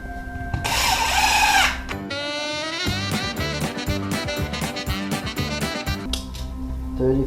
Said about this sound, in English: So we're gonna pre-drill